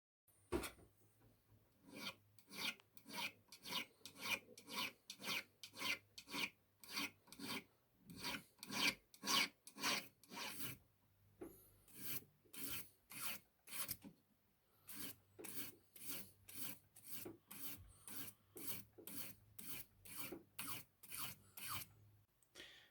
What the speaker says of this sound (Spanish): ahí ya le pasé esmeril al chatón, le pasé de los costados y de la parte de arriba